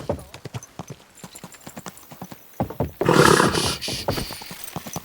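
Horse hooves clip-clop steadily in the medieval video game Kingdom Come Deliverance 2. The footfalls sound close, and a burst of louder, rushing noise midway sits over the hoofbeats.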